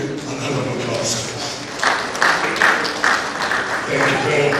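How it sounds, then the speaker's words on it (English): An audience applauds to welcome the Minister of Power at a ministerial press briefing, with steady clapping building under ongoing talk in a large room. "Please let's give him an round of applause."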